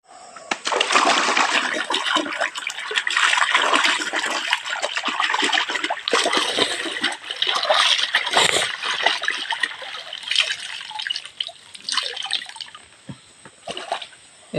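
River water splashes and trickles as laundry is rinsed in a river, with uneven bursts of splashing and a constant flowing wash close by.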